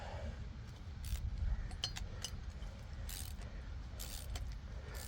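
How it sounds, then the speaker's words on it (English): A ratchet wrench tightens bolts while installing a Timbren SES suspension kit on a 2025 Chevrolet Colorado, giving quiet bursts of rapid clicking over a low rumble of background noise. "Take a second to ratchet."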